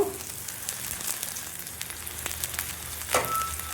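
Green chillies fry in hot oil with a steady, close sizzle and a few sharp pops and spatters scattered through it, alone with no talk.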